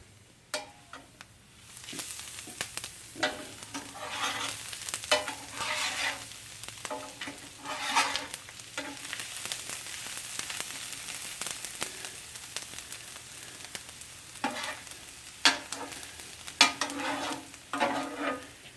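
Onions sauteing in oil and butter in a pan, a continuous close sizzle broken by repeated scraping stirs and spatula knocks at an irregular pace.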